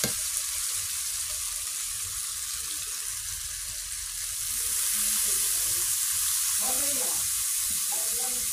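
Fish cooking in spiced masala sizzles steadily in the pan, with intermittent scraping from stirring that grows more noticeable toward the end.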